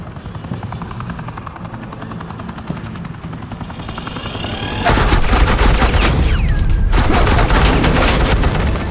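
Suppressing gunfire in Batman Telltale Series: a steady rumble gives way midway to loud, dense automatic bursts with a helicopter-like drone beneath them.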